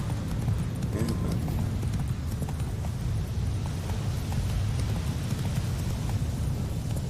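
Hooves of Roach, the horse in The Witcher 3, clip-clop steadily in a fast, continuous gallop rhythm, loud and close throughout with a low rumbling thud underneath and no talking.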